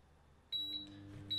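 An induction cooktop gives short, clear electronic beeps as it is switched on, a sharp tone at the start and another near the end, heard alone in a quiet room.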